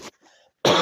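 A single sharp cough, close and loud, preceded by a brief faint throat sound and quiet pause.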